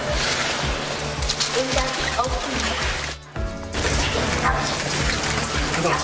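Steady rain patters and hisses on surfaces during an early-morning parcel delivery round, loud and continuous with a brief dip partway through, mixed with faint mechanical clicks and rustling.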